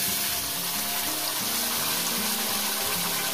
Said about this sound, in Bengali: মশলাপাতি ধোয়া জলটা আমি দিয়ে দেবো, দিয়ে দিলাম।